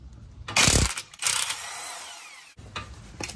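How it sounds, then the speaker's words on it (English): Removing a strut nut with a 15mm deep socket on a Chevy Malibu during a CV axle replacement: short bursts of a power tool whirring close and loud, separated by brief pauses. "So first, let's get the nut off."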